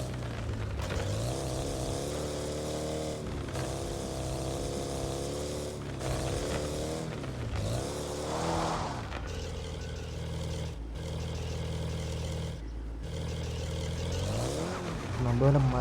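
Car engine in the Car Parking Multiplayer video game, a steady droning hum with shifting revs as the vehicle climbs a hill, heard continuously under ongoing talk.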